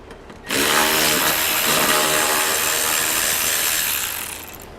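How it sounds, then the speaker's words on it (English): A hand ratchet fitted with a 7mm socket loosens bolts on a 2011 Chevrolet HHR during a Blue Ox base plate install, giving a fast, loud, continuous clicking run of about four seconds, close to the microphone. "We'll need a 7mm socket here, and we want to get them removed on both sides."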